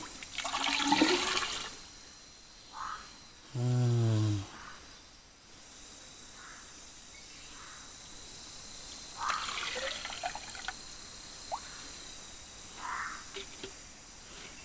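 Water pours steadily into a cup for daily use among forest-dwelling Mlabri people, a soft continuous splashing hiss with a brief louder gurgle partway through and faint background sounds.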